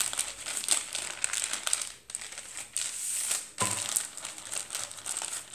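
Baking paper crinkles and rustles as it is pressed down over sheets of light and dark cookie dough for a one-egg cake, a steady close crackling with a short pause midway and no talking.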